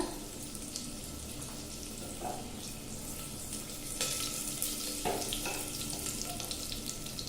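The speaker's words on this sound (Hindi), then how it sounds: "ये हल्का फ्राई हो जाए, फिर इसमें हरी मिर्च ऐड करेंगे।" Garlic, cumin and green chili frying in oil for dal, a soft steady sizzle close by with occasional clinks and stirring scrapes.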